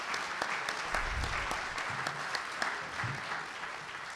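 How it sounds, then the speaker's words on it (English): Audience at a candidates' forum applauding nine people on stage: a dense, steady wash of many hands clapping, heard from a distance at moderate level without talk. "please help me in giving them a warm round of applause and thanks"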